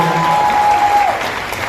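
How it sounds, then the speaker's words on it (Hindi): A loud, dense burst of crowd applause fills the space at a film trailer launch event, with a steady tone briefly sounding over the clapping. "इसके लिए जोरदार तालियां बजाएं।"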